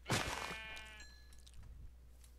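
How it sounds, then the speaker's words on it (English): A sheep in Minecraft lets out a short, faint bleat near the start, followed by quieter game sounds. "kill this sheep"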